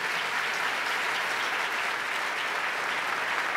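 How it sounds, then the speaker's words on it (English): Large audience applause at Governor Cuomo's 2015 Opportunity Agenda presentation, a loud, continuous, even roar of many hands clapping with no pauses. "Let's give him a big round of applause and a moment of recognition"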